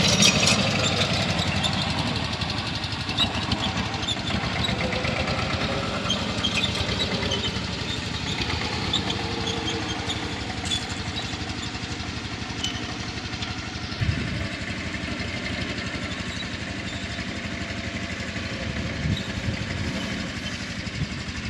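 A tractor engine idling at a village tractor service camp, a loud, close, steady mechanical rumble with an even knocking pulse that continues without a break.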